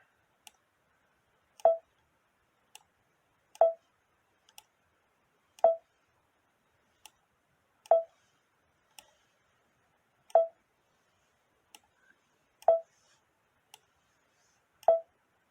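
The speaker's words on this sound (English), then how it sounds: "Click and drag, click and drag." Computer mouse clicking while drawing quilt patterns in software, sharp isolated clicks repeating roughly every second or two, close and crisp against silence.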